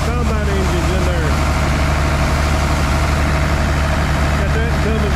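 A grain auger powered by a 466 combine engine runs in a harvest field, a loud, steady low drone with mechanical whine and rattle holding constant throughout.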